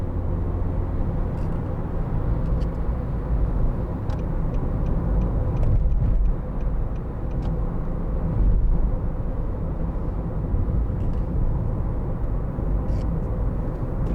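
A 2013 Nissan Note 1.5 dCi diesel car drives along a motorway with steady road and engine noise heard from inside the cabin, with a brief dip partway through as the gear changes.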